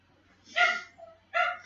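A dog barks twice in a household, two sharp harmonic barks about three-quarters of a second apart with a softer whine between, fairly close over a low background hum.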